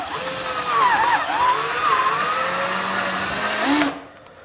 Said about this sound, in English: we're going to have to drill out the handle itself a little bit bigger